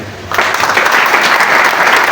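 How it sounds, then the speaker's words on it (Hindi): Audience applause at a gathering where a zonal chief gives a speech, a dense steady roar of many hands that bursts in abruptly after a quiet moment and holds loud and even to the end. "अपनी कामयाबी के लिए थोड़ा जोश खरोश पैदा करें, थोड़ी तालियां तो बजाएं"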